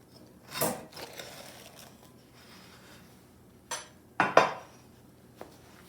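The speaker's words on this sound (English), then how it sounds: "Now I'll remove it from the pan" A hot stoneware pan is handled while banana nut bread is lifted out, with a soft knock early, then a cluster of sharp clinks and scrapes near the end in an otherwise quiet room.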